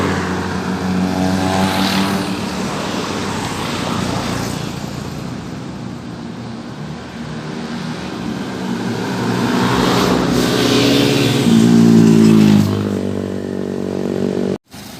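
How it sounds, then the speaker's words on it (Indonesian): Two intercity buses run close together on a road through Pasir Putih, a loud, steady engine roar and road rumble close by that swells toward the end, with no talking. "Bus rapi Navin Pak Benli ditempel ketat oleh bus Makmur ini teman."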